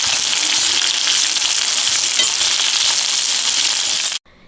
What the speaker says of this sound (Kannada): ಈಗ ಮಸ್ತಿರುವಂತಹ ಬೇಳೆನ ಒಗ್ಗರಣೆಗೆ ಹಾಕಿ ಇದನ್ನು ಮಿಕ್ಸ್ ಮಾಡ್ಕೋಬೇಕು.